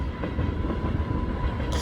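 Lego toy trains run along a track in a steady rolling rumble with faint rhythmic clicks of wheels over the rails, a brighter burst at the very end, and no voices.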